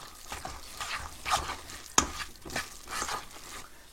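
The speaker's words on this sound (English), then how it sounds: "Stir it in." Flour is stirred into dough in a bowl: soft rhythmic scraping and thudding strokes, close and fairly quiet, with one sharper knock partway through.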